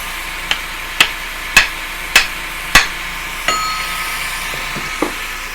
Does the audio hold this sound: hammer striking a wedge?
yes